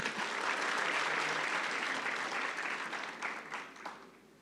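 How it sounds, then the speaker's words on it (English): Audience applauding at a university graduation ceremony for a graduate receiving a degree with distinction, dense steady clapping from a large crowd that fades slightly toward the end. "For that you can clap."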